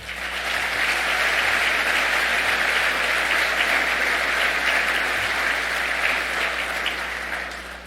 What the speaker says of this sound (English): Please help me thank them by giving them a round of applause.